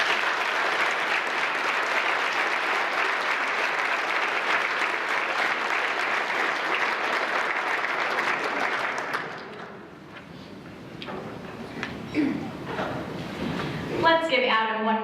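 A large audience at a university scholarship recognition reception applauds loudly and continuously for about nine seconds, then the clapping dies away and a voice begins speaking into a quieter room.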